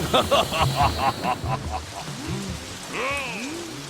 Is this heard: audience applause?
no